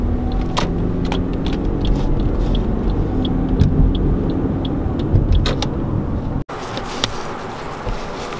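A race car runs on a racetrack, heard as a steady low engine rumble from some distance, with scattered sharp clicks and footstep-like taps nearby and a brief cut near the end.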